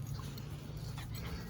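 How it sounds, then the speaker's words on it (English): A small dog named Jensen whimpers faintly in the background against a low steady hum, a soft, thin whine over a second and a half with no talking. "that's Kim's little dog"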